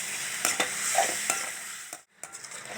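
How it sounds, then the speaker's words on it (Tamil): Chicken stir-fried in a pan with salt and turmeric, a sizzling bed broken by several sharp spatula scrapes and knocks, with a brief pause near the end, no voices. "எல்லாம் போட்டுட்டு நல்லா இப்படி ஃப்ரை பண்ணி விட்டுக்கோங்க."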